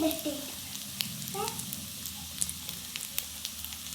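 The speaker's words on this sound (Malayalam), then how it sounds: "ഉള്ളി ഇട്ട് കൊടുക്കാം." Onions frying in a pan give a soft, steady sizzle with faint crackles and small spatters. The sound is quiet and close, and there is no talking over it.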